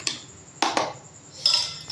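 A spoon stirs lemon juice mixed with black salt in a bowl, giving a few short, quiet clinks and scrapes against the sides with brief pauses between them.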